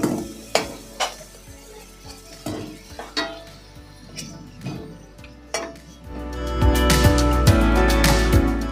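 Potatoes frying in hot oil in a pan while cooking a Bengali kochur mukhi curry: a soft sizzle runs under repeated clinks and scrapes of a spoon stirring against the pan, with the sizzle swelling loud near the end.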